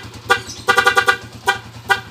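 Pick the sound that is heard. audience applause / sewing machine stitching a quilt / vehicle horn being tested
vehicle horn being tested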